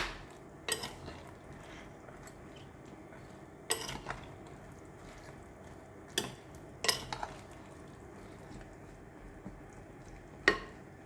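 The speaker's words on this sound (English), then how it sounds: "Now we give it a stir." Crispy fried garlic stirred in a clay pot with oyster sauce, giving a few sharp utensil scrapes and knocks against the pot, spaced irregularly over a low, steady kitchen background.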